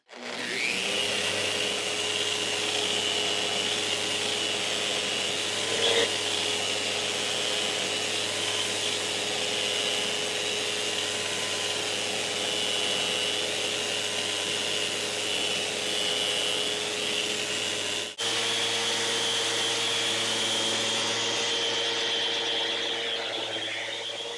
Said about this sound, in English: I would always go over it with a sander